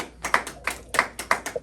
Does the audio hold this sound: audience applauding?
yes